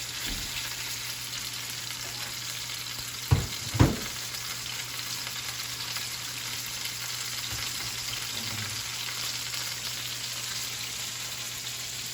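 Pork tenderloin sears salt side down in a pan, giving a steady broadband sizzle throughout with a low hum underneath and a couple of brief sharp clanks just past the midpoint, with no voices.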